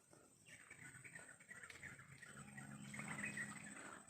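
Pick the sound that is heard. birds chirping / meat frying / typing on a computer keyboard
birds chirping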